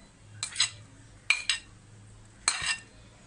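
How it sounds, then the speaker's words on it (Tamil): Rice being stirred and mixed into pineapple rice in a pan, producing three separate short bursts of utensil clinks and scrapes against the metal, close and fairly quiet, with soft background hum in between. "சேர்த்து லைட்டாக அப்படி அந்த மாதிரி பெரட்டி விட்டு மிக்ஸ் கொடுக்கணும்."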